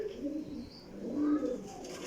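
Sialkoti pigeons cooing softly in low, rolling murmurs, a couple of short swells close by with a faint background hiss and no talk.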